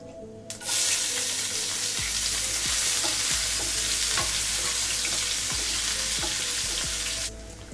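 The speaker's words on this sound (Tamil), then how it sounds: "இப்போ கடுகு பொரிஞ்சதுக்கப்புறம் கொஞ்சம் வெங்காயம் போட்டுக்கோங்க." Small chopped onions drop into hot oil after mustard seeds and a dried red chilli have spluttered, and a loud, steady broadband sizzle starts abruptly and runs for several seconds before cutting off, with faint clicks under it.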